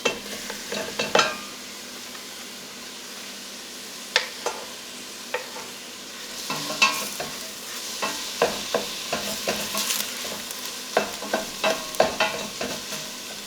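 Chicken sausage sizzling and frying in a pan, with repeated sharp scrapes and clinks of a utensil stirring it every second or so.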